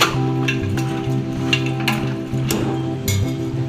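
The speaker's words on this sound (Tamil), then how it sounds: "இப்போ இது நல்லா வதக்கி விட்டுறலாம். இந்த கறி வந்து எண்ணெயிலே லைட்டாக வேகணும்" Chicken pieces sauté in hot oil for a home-style chicken curry, a close steady sizzle broken by occasional scrapes and clinks of stirring.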